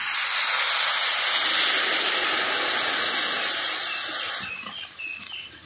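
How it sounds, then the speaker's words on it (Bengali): Water hits a hot pan of fried potatoes, bursting into a loud, steady steaming hiss that holds for several seconds, then drops to softer bubbling near the end. "আমি এবার জল দিয়ে দিচ্ছি"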